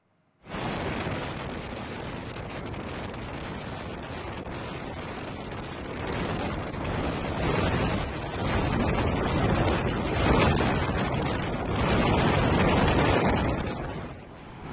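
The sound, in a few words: strong wind on Suramadu Bridge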